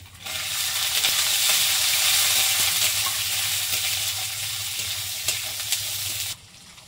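Peanuts frying in hot oil in a pan for chirer upma, a dense, steady sizzle with faint stirring taps close by that cuts off sharply at the end, with no talking.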